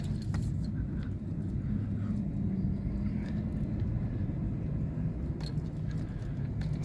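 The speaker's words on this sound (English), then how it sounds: "there's nothing like driving through fresh powder" A supercharged Chevrolet Silverado driving through fresh snow and deep drifts, heard as a continuous low, rumbling drone with steady road and wind noise and a few faint knocks, with no talking.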